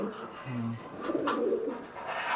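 Pigeons coo from a loft of old-generation native high-flying birds, with a short low coo and some soft bird calls over a faint hum of surrounding noise.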